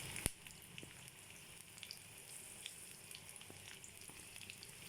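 Garlic and green chilies fry in hot oil with a quiet, steady sizzle, broken by a few faint crackles and light clicks.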